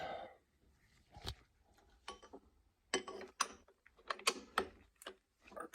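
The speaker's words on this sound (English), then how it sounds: "get our torque wrench" A torque wrench ratchets in short clicking bursts while a timing chain tensioner bolt is tightened on an engine, with sharp mechanical ticks separated by brief pauses, close by and fairly quiet.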